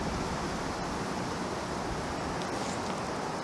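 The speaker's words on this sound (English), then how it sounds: "there's a little bit of wind." Steady wind buffets the microphone outdoors in a small park, a continuous broadband rush with no breaks or other sounds.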